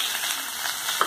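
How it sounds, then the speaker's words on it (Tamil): Onions and a spoon of cumin sizzle in hot oil in a kadai while channa masala is being made, a steady close crackling fry with no voices. "எண்ணெய் சூடானத உடனே 1 ஸ்பூன் சீரகம் அப்புறம் பொடியா நீல நிலமா நறுக்கி வச்ச ரெண்டு வெங்காயம் பெரிய வெங்காயம்"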